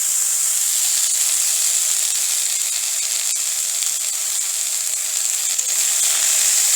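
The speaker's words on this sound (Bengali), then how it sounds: "ডাঁটাটা ঢেলে একটু নেড়ে নেব" Vegetable stalks fry in hot oil alongside fried brinjal, a loud, continuous, even sizzling hiss held steady throughout.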